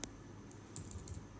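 Typing on a computer keyboard while entering a date in an Excel spreadsheet: a few quiet, scattered key clicks with short gaps in a very low, hushed room.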